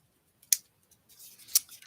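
Scissors cutting up a sticker, with two crisp, close snips separated by a soft rustle of the sticker material, otherwise quiet.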